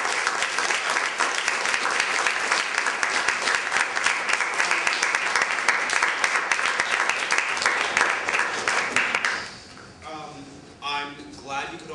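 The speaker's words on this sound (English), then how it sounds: "please join me in a round of applause for all of our speakers" Audience applause for conference speakers fills the room, dense and steady for about nine seconds, then quickly fades into scattered claps and murmured talk.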